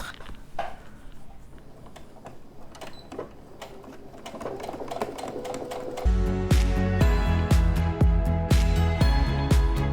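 A sewing machine stitches a jewellery pouch with a 3 mm stitch length, starting with scattered clicks and handling noises and then breaking into a loud, steady mechanical run of rapid stitching.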